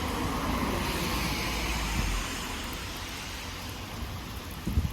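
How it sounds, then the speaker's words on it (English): Steady rain falling in Iceland, a dense, even hiss of drops filling the whole stretch, loud and close, with a few faint knocks near the end. "it is raining"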